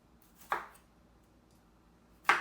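Two crisp knife chops through fresh garden tomatoes, spaced about two seconds apart, each a short sharp cut against a board in a quiet kitchen.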